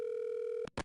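A telephone gives out a steady electronic tone, then two short bursts of noise close by as the line clicks, all brief and quiet.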